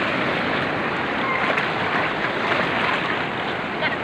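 Strong sea waves washing onto a beach, a continuous loud roar of surf with wind noise buffeting the microphone throughout.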